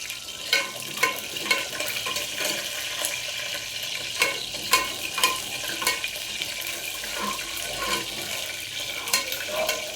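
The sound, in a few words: onion sautéing in pan for Gudi Padwa thali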